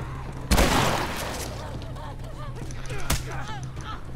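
Gunfire in The Last of Us shooter game: two sharp, loud shots a few seconds apart crack over a busy, noisy background.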